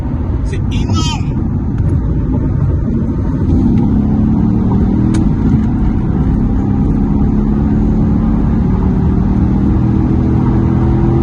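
Corvette C8 Stingray engine pulling hard through a series of gear changes, a loud continuous roar rising and stepping between shifts, with wind and road noise close around it.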